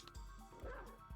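A dog barks three times in quick, evenly spaced yaps, fairly close, with a faint electronic game-like tone behind, in the video game Castlevania: Symphony of the Night.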